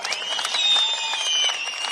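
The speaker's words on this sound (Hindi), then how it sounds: "जोर से ताली बजाना जरा" Applause from a large crowd at an outdoor political rally in Kishtwar, Jammu and Kashmir, a dense, steady clapping that fills the whole stretch at moderate loudness, with no voices cutting through.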